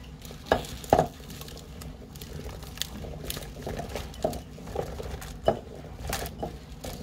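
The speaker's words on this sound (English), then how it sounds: "Sweet potatoes in. I'm going to stir them up." Sweet potatoes and beef being stirred in a stew pot for Moroccan beef and sweet potato stew, soft scraping and patter with occasional knocks of the spoon against the pot.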